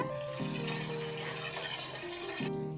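Water poured into a pot for rava kichadi made with semolina, a continuous splashing, gurgling pour that changes pitch as the pot fills, fairly faint with no talking.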